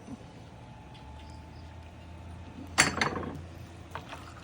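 A spoon clinks and scrapes against a pot as stewed tomatoes are stirred into a three-meat chili, one sharp clatter standing out among faint background hum and a few softer knocks.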